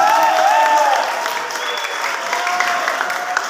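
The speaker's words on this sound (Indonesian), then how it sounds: "tepuk tangan untuk SMK Bina Mandiri." Sustained applause from an audience at a school Maulid Nabi celebration for SMK Bina Mandiri, a dense steady patter of clapping, with faint tonal sounds from a sound system heard throughout.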